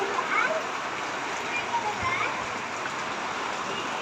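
Steady hissing typhoon rain patters on surfaces throughout, outdoors in the Philippines, with a few faint Tagalog voices and calls in the background.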